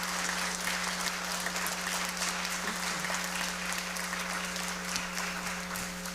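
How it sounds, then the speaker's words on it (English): An audience at a senior high school National Honor Society induction ceremony claps steadily for the class of 2024, a dense, sustained applause over a faint background hum. "So can we get a round of applause for our class of 2024 National Honor Society?"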